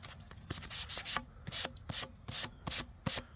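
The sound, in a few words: sanding white bonding primer on an Estes Hi-Flier XL model rocket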